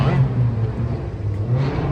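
Engines revving at a car burnout competition outside a custom car show, a steady loud low drone in the background with voices talking over it.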